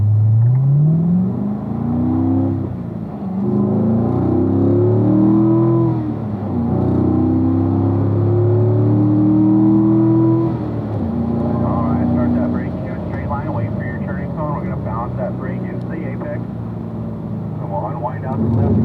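A car engine revs and accelerates on a driving school track, rising and falling in pitch through several pulls, with an instructor talking over it.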